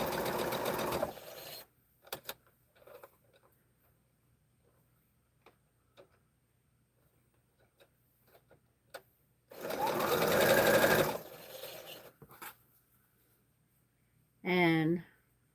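A sewing machine stitches quilt blocks together in two loud sustained runs, separated by quiet stretches of scattered ticks and handling clicks, with a brief voice near the end.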